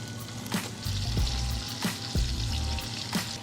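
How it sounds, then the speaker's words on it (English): Beef bacon sizzles and fries in butter in a pan, a steady crackling hiss with a few louder pops and spatters across the few seconds, heard close up with no talking. "So now, I'll go ahead and just put this bacon in here. And again, this is beef bacon,"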